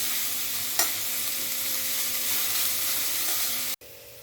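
Bitter gourd fries in oil in a pan over a medium gas flame, giving a steady, close sizzling hiss with a single brief clatter, then cutting off abruptly near the end.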